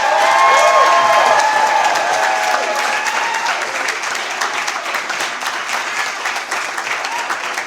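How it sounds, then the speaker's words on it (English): A poetry-reading audience keeps up steady applause with scattered cheers and whistles early on, the clapping continuing thick and near before easing slightly toward the end. "We have one more round of applause for all of our readers."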